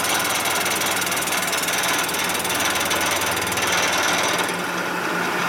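A cutter machining a Harley-Davidson panhead cylinder head gives a loud, steady chattering buzz that runs unbroken and close throughout, with strong vibration and no talking.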